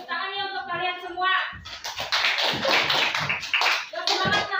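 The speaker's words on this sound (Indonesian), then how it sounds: "Tepuk tangan ya untuk kalian semua." A classroom of children bursts into brisk clapping after a teacher's voice, many small hands beating fast and loud, with a voice briefly rising over the applause.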